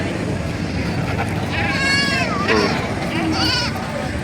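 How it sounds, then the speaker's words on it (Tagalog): Goats for sale at the Batangas Livestock Open Market in Padre Garcia bleat two or three times amid a dense, noisy crowd of market chatter. "Yan ngayon ang mga pinagbibiling kambing dito sa Padrican sa Batangas Livestock Open Market"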